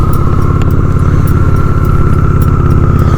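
Honda Shadow 750 ACE motorcycle at speed on a busy road, its engine a loud, continuous low drone heard from right on the bike, steady throughout with faint wind noise.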